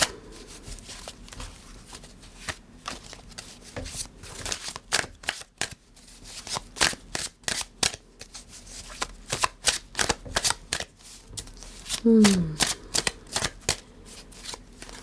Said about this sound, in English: I do feel like it's taking its time to shuffle.